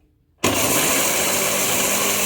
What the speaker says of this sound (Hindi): बाकी ये सारे मसाले मैं मिक्सी के जार में डाल के पीसूँगी।